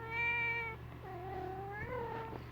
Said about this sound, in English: Here's my nosy cat again.